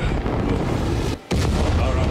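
Dense, roaring blast noise from battle in Space Marine 2 fills the clip at high volume. It cuts out briefly midway, then slams back in just as loud.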